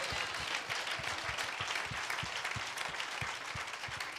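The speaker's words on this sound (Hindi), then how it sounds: "थाली बजा के परमेश्वर को धन्यवाद करें." A congregation at a Christian church service claps in a steady rhythm, bright sharp claps repeating about every third of a second over a continuous crowd wash, with no speech.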